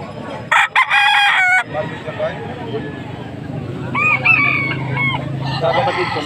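Roosters and hens at a Bocaue, Pampanga poultry market crow loudly in a burst early on, then more crowing and clucking rises again later above a steady murmur of people talking nearby.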